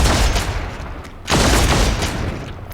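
Dense gunfire from the Warhammer 40k: Deathwatch video game during a Tyranid invasion, loud sustained bursts of shots in two rolling volleys separated by a brief lull.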